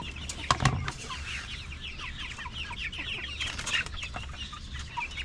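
Chicks and fowl clucking and cheeping in a backyard coop at feeding time, a busy, steady chorus of small peeps with a louder cluck or two and brief wing flaps near the start, no talking.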